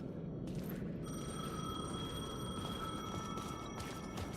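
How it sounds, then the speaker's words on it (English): Payphone bell ringing in faint repeated bursts over a constant low rumbling background, a thin metallic tone sustained between the rings. "The payphone was ringing."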